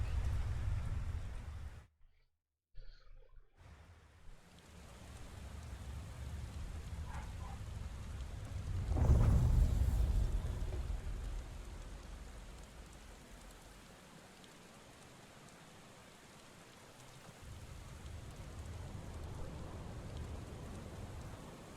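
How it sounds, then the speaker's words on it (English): Steady rain hisses in a video game, with a deep rumble of thunder swelling in the middle before easing back into the constant wash of rainfall; a brief dropout of sound occurs near the start. "Rain."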